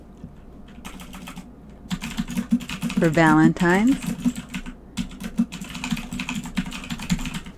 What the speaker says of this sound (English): You're typing really fast.